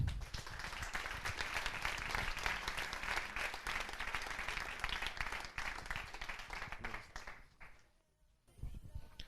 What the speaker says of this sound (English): give a huge round of applause for OUSSAMA for his talk